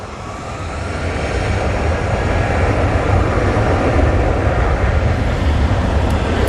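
An airliner takes off at Manchester Airport bound for Palma de Mallorca, a loud, broad engine roar building steadily and sustaining without pause, no talking audible.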